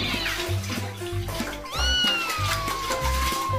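A cat gives a few loud, close meows, one long drawn-out cry standing out over background music.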